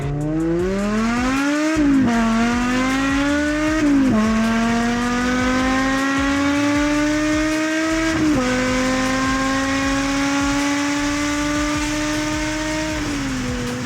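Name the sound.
BMW E60 M5 car driving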